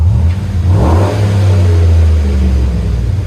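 A 2009 Chevy Suburban's 5.3L V8 with a Flowmaster Flow FX exhaust revs up close with a deep, rumbling burble, rising briefly then settling into a loud, low idle growl, around 98 decibels.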